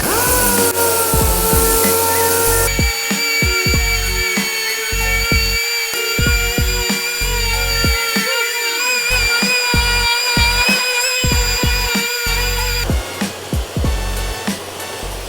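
Steady high-pitched whine of a power sander with Garuda abrasive on a Kovax Airflow platform running continuously, with scraping bursts and brief pauses as it works across a surface, close and loud.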